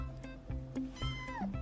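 A cat meows a few times in short, close calls, with a couple of drawn-out, bending cries among them and no talking over it.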